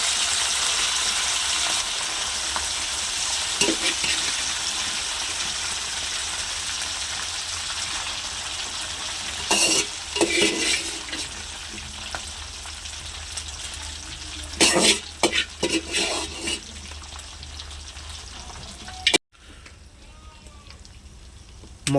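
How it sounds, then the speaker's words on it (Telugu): Chicken pieces fry in well-heated oil in a pan, a steady close sizzle running throughout with a few louder bursts of crackling and stirring clatter before it briefly cuts out near the end. "ఆ బాండిల్లోనే నూనె పోసుకొని బాగా కాగిన నూనెలో మనం తీసుకున్న చికెను వేసుకుందాం"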